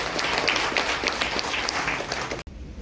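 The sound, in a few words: audience clapping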